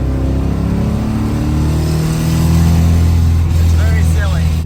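A 1971 Dodge Demon 340 with a four-speed accelerating, its loud engine rumble climbing steadily with a rattle from a loose mirror, heard from inside the car.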